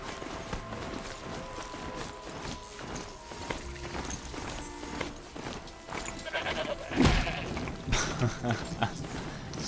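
A goat in the video game Horizon Zero Dawn: The Frozen Wilds, with hoof clip-clops and bleating mixed into game sounds, and a voice talking over them.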